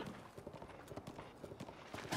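A horse gallops in The Legend of Zelda: Breath of the Wild, its hooves clip-clopping in a quick steady rhythm, moderately quiet, under a low game soundscape.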